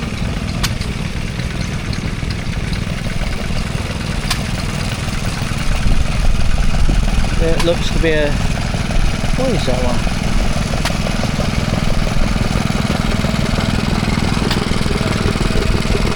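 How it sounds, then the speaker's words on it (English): Stationary engine at a Sussex country show, driving a reciprocating log saw, chugging steadily and loudly throughout while someone talks over it. "It's a stationary engine and it just powered a saw"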